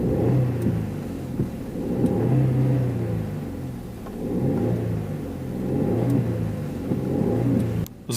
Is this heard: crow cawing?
no